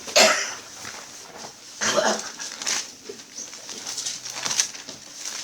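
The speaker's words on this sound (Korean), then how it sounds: "기침을 막 해버리세요. 괜찮습니다." Coughs break out among a church congregation during a sermon, several short, harsh bursts spread unevenly over a few seconds, some nearer and some farther off in a reverberant hall.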